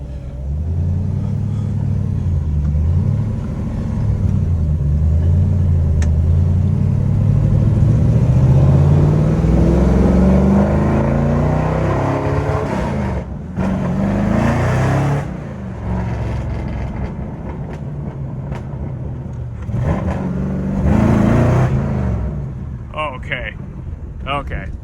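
A V8 rear-wheel-drive car with a swapped 6-speed manual on a test drive, engine rumbling and rising in pitch through the gears with shift breaks, heard from inside the cabin under wind noise.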